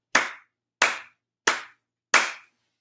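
Four single hand claps in a row during a body percussion exercise, evenly spaced and sharp, each a crisp close slap with a quick decay, followed by silence.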